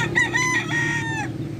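A rooster crows once, loud and close, with a long wavering call among chickens crowded into a small backyard breeder's coop in the Philippines.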